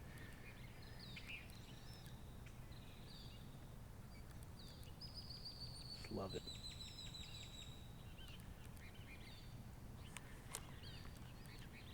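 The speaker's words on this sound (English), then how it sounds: "There's some particularly raucous birds calling off in the trees." Raucous birds call from trees around a pond in a San Diego park, scattered chirps and squawks at a distance over steady outdoor noise, with a brief louder call midway and a short spoken remark.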